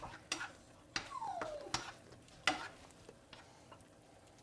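Spicy chicken ramen noodles being stirred in a pot, with light clicking knocks of a utensil against the pot and a soft background simmer, fairly quiet.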